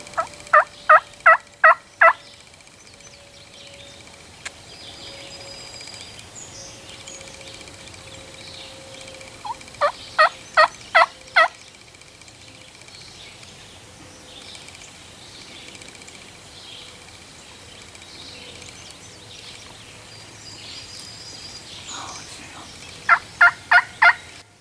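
Wild young turkeys gobble during a late-season Pennsylvania spring gobbler hunt, three short rapid bursts of repeated gobbles spaced across a quiet outdoor background, moderately distant and with no talking.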